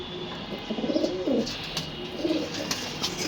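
Pigeons coo softly in a couple of low, rolling bursts close by, with faint background noise and no talking.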